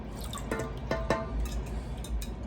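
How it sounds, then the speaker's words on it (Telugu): Fish pieces being rinsed clean in water before frying: a few wet splashes and drips within a couple of seconds, close and moderate, over a low background hum. "ఈ ముక్కలు మనం శుభ్రంగా కడిగి వేసుకొని"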